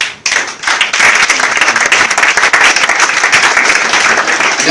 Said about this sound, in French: Il faut applaudir pour eux.